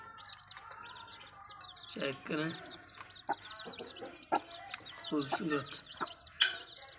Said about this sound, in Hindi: खूबसूरत मुर्गी है और इनके बच्चे भी देख लें